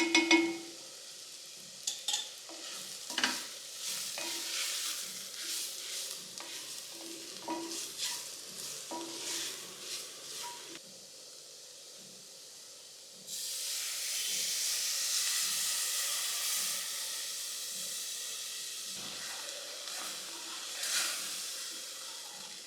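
Corn flour and milk simmer with sautéed mushrooms for a café-style cream of mushroom soup, giving steady stirring scrapes and a soft bubbling hiss that swells louder partway through, with no talking.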